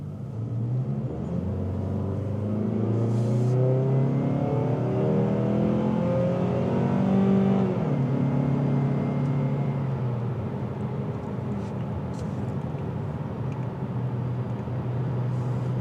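A 2026 Mazda CX-30 2.5 S Aire Edition cruising at highway speed, a steady low engine and road rumble with wind noise filling the cabin, constant throughout with no talk.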